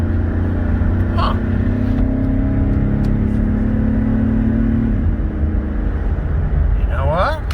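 A 2006 Dodge Ram 1500 quad cab with a 3.7 Magnum V6 pulls hard at about three-quarter throttle, its engine droning loud and steady from inside the cab before easing off, with brief speech near the end.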